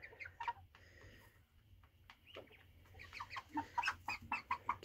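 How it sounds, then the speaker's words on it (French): Chickens cluck softly and repeatedly nearby, with scattered short calls growing busier toward the end, heard faintly without talk. "c'est des poules"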